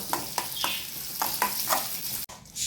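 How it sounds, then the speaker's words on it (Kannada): Onion sizzling and frying in two spoons of hot oil for a Mangalore-style mackerel puli munchi curry, with a steady hiss broken by several rhythmic stirring scrapes close by and a brief cut near the end. "2 ಸ್ಪೂನ್ ಎಣ್ಣೆ ಹಾಕಿ ಇದನ್ನು ಸಹ ಚೆನ್ನಾಗಿ ಫ್ರೈ ಮಾಡ್ತೇನೆ"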